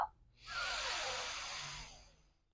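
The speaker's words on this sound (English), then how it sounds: "One last time, deep inhale." A slow, deep inhale during a seated chair yoga session, drawn in as a soft, steady rush of breath that swells and then fades, close and quiet with no talking.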